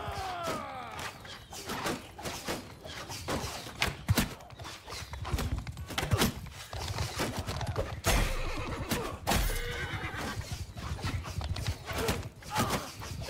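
Horses neighing in the game Mount & Blade Bannerlord, loud whinnies over constant galloping hoofbeats and clashing battle noise, dense and close throughout.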